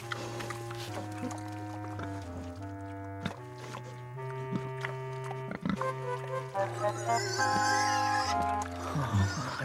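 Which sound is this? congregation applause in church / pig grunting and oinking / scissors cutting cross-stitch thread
pig grunting and oinking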